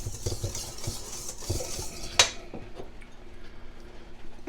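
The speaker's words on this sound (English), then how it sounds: "So we're just going to whisk this all together." Aebleskiver batter is whisked in a bowl with quick, uneven scraping strokes and one sharp clink of the whisk against the rim, close and moderately loud with no talking.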